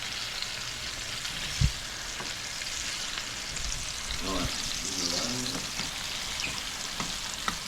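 Italian-style crispy cauliflower fries in a pan with a steady, close crackling sizzle, punctuated by a sharp knock early on and a few brief scraping and clinking sounds.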